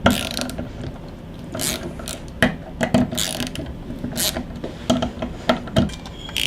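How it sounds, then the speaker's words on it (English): Ratchet wrench with a Torx bit clicking as it loosens tight handguard screws on a B&T GHM9, steady close ratcheting with several louder clacks between runs of clicks. "It's probably best to use your Torx bit with a ratchet wrench and make sure it gets all the way down in there."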